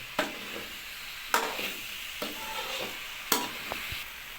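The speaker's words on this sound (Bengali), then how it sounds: "কিছুক্ষণ কষে নিতে হবে হালকা জল দিয়ে" Raw green banana curry stirred and sautéed in a pan with a little water, giving a soft steady sizzle broken by three sharp scraping strokes of the spoon, close and moderately quiet, with no talking.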